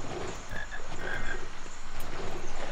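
A frog croaks in the Harry Potter and the Philosopher's Stone video game, its short repeated croaks steady and clear over a soft, continuous ambient background.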